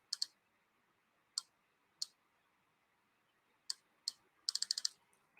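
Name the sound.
typing text on a computer keyboard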